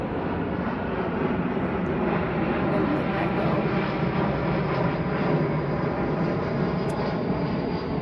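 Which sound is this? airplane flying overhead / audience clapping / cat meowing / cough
airplane flying overhead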